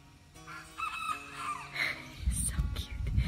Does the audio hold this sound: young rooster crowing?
yes